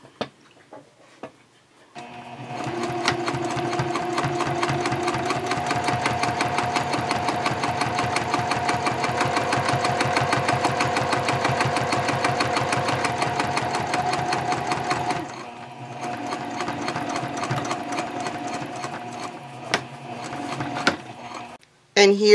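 A sewing machine runs in a long steady burst of rapid stitching while top stitching a messenger bag seam through lining and seam allowance, then pauses and resumes for a shorter run, with a voice talking over it.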